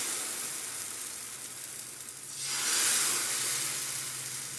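Dosa batter made as a healthy recipe sizzles on a hot oiled pan, a steady hiss that swells louder midway as the batter spreads and then holds, close and clear with no talking.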